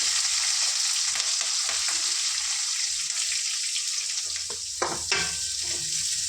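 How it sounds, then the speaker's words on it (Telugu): Onions and green chillies frying with cumin and mustard seeds in hot oil, giving a loud, steady close-up sizzle with a couple of brief stirring scrapes near the end and no talk. "వీటిని చక్కగా ఫ్రై చేసుకుందాం లైట్ గోల్డెన్ బ్రౌన్ కలర్ వచ్చే వరకు"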